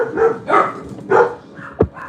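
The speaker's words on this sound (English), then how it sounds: "Excuse the dogs." Several dogs bark indoors in short, loud, close bursts, with four sharp woofs in about two seconds, separated by brief pauses.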